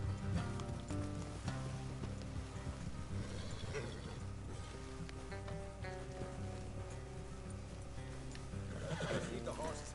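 Horses whinny and neigh in Red Dead Redemption 2, with hooves clip-clopping along a road beneath a continuous game soundscape while voices talk over it.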